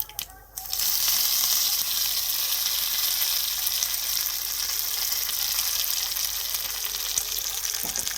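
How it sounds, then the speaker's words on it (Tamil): Mustard seeds splutter and crackle in hot oil in a kadai for Tamil tempering, a loud, steady sizzle that begins abruptly and then continues without a break. "கொஞ்சம் கடாய் சூடானதும் ஆயில் ஊற்றியாச்சு இப்போ கடுகு போட்டு தாளிச்சிடுவோம்"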